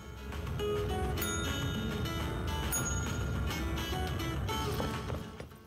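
A small bell rings repeatedly in the video game Control, with clear chiming tones over a dense, eerie ambient soundscape that stays loud throughout.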